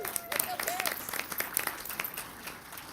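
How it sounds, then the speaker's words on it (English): A crowd at a school district board meeting gives a round of applause, steady mid-level clapping mixed with a few voices and a brief whistle-like tone. "Big round of applause for being here"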